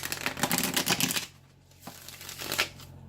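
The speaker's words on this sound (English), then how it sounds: "Just give me a chance to get your cards shuffled" A deck of tarot cards is riffled with a quick, crisp burst of flutters, followed by a quieter pause and a couple of softer shuffles.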